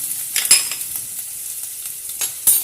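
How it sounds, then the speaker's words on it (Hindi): Cumin seeds and ginger garlic paste fry in a pan for vada pav, a quiet crackling sizzle with a few sharp spoon scrapes and clinks against the metal. Nobody speaks. "इसको हम थोड़ा सा बस ऐसे थोड़ा सा पकाएंगे ज़ीरे को, ताकि इसकी खुशबू आ जाए।"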